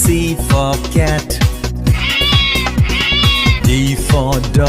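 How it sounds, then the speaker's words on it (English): A cartoon-style cat meows repeatedly in bright, wavering cries over a pulsing children's song beat, loud and close, with a few longer drawn-out calls. "C for cat"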